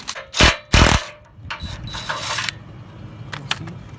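Ratchet wrench loosening bolts on the frame of a 2014 Dodge Charger R/T ex-police car, giving a few loud close clicks and bursts of ratcheting followed by softer mechanical rattling and scattered clicks.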